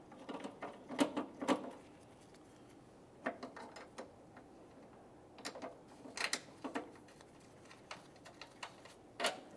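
Bolts are snugged down on a battery tray bracket of a 2000-2006 Chevrolet Tahoe: bursts of quick ratcheting clicks, close and fairly faint, separated by short pauses.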